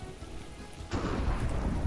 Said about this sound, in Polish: Grzmi!